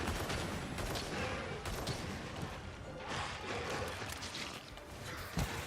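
A bowgun in Monster Hunter Rise fires normal ammo in a rapid, dense barrage of sharp shots, mixed with impact thuds and mechanical clatter, loud and continuous.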